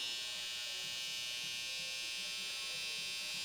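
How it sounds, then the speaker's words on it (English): A hair trimmer buzzes steadily while tidying the line of a haircut fade, working with only a corner of the blade; a constant, close electric hum with no talk. "I'm going to use a trimmer to really eliminate that line completely."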